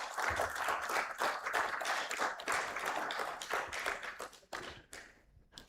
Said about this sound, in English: a huge round of applause for our race director